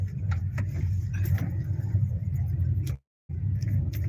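Car cruising on a city road in Mira Road, a steady low engine and tyre rumble heard from inside the cabin, with a brief dropout near the end.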